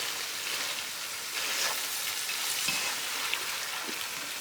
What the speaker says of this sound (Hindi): अब फ्लेम हाई कर लें और 3 से 4 मिनट तक कुक करें